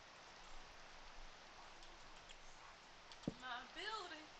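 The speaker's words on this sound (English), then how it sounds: "Oh God, rain!" Video-game rain falls as a steady hiss of dense drops on surfaces, fairly faint and continuous, while a voice speaks excitedly over the patter near the end.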